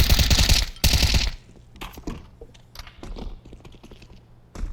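Gunfire in Counter-Strike 2: a dense automatic burst of rapid shots for about a second, then scattered single cracks and clicks, loud and close with no speech.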